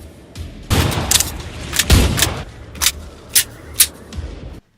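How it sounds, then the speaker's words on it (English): Killing Floor 2 weapon action: a reload clatter, then a melee bash and a burst of gunshots, loud and close, ending with several spaced sharp shots before cutting to silence. "I'm going to reload and then bash, shoot"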